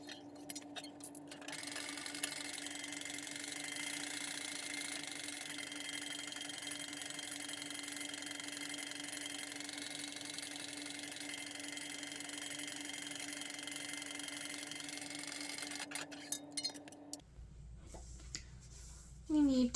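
A sewing machine stitching fabric along the edge of a messenger bag at a half-inch seam, running steadily with a continuous fast mechanical whir for most of the time before stopping with a few quieter handling noises.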